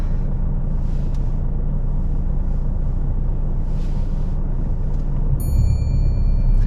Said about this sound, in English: Drive off when you're ready.